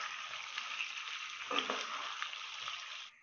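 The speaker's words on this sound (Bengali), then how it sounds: "এরপরে একটু ভালো করে নেড়ে চেড়ে মিক্স করে দেবো।" Chicken pieces are stirred into boiling chilli chicken gravy in a pan, producing a continuous close sizzle and bubbling hiss with faint scraping that cuts off near the end, with no voices.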